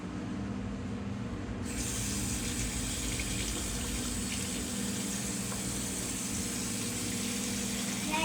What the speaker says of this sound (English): Run me a touch more water in here.